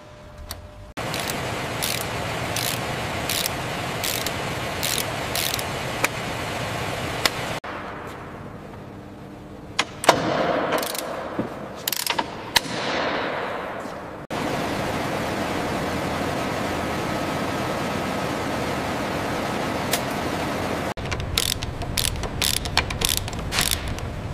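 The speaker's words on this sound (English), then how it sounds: "Torquing bolt 4, green light." A ratchet wrench clicks in rapid bursts while torquing mount bolts during assembly in an Apache helicopter factory, the clicking broken by quieter gaps and set over a steady background hiss.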